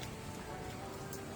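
Steady rain falls in humid, gloomy weather outdoors, a soft continuous patter of drops with no voices, moderately quiet and even throughout.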